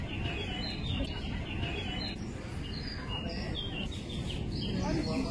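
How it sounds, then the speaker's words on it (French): Small birds chirp and tweet in repeated bright calls at an outdoor flower market in Nice, over a steady bed of crowd murmur and background chatter. "Je vous laisse des petits bruits d'oiseaux, c'était hyper agréable."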